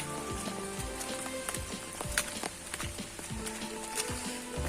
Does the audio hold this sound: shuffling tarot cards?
no